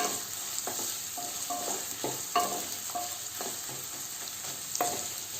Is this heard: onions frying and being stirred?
yes